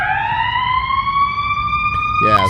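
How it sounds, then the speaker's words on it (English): A wailing emergency vehicle siren rises steadily in pitch, loud and continuous throughout, with a brief burst of other noise near the end. "I love how there's a siren in the background escalating this to just like"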